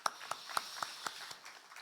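Congregation clapping at a Friday evening church service: about six sharp, fairly evenly spaced claps, fading away after a second and a half. They sound faint and somewhat distant over a quiet background hiss.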